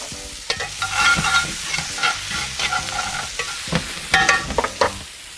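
Ginger and chopped garlic fry in hot oil, crackling and sizzling steadily while a utensil stirs and scrapes against the pan in quick, uneven strokes.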